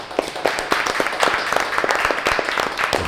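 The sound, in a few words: audience applause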